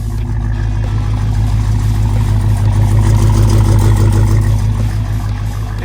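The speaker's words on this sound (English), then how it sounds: "Y'all can probably hear this rattle back here." A Dodge Hellcat with active exhaust idles close by with a deep, steady engine drone, a faint metallic rattle riding on top of the even, unbroken rumble.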